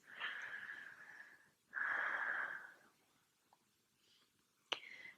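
Deep breathing during a yoga session, two long, close breaths in a quiet room, followed by a short sharp sound and a faint exhale.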